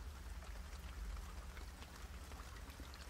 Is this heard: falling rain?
yes